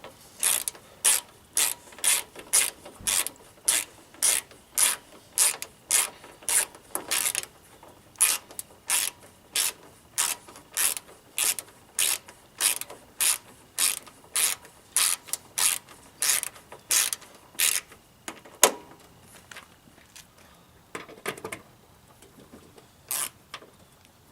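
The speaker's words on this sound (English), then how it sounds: "You just take your 7mm socket, start tightening it down." A ratchet fitted with a 7mm socket tightens the headlight assembly bolts on a Pontiac G6, giving close, crisp runs of rapid clicks in repeated bursts with short pauses between, and no voices.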